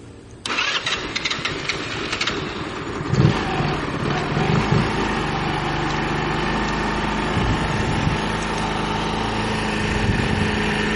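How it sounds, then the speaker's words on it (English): A GY6 scooter engine fitted with an oil cooler cranks briefly, catches, and settles into a steady, loud idle that runs on continuously close to the listener. "hit the start button and it should crank right up"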